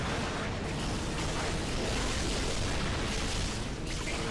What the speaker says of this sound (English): I'm getting a lot of, like, explosions all the time.